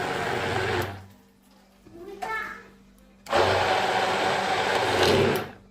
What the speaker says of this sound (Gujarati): હવે આપણે સારી રીતે આમાં બ્લેન્ડર મારી દેશું, જેથી કરી આપણા બધા મસાલા છે તે એકદમ સરસ રીતે મિક્સ થઈ જશે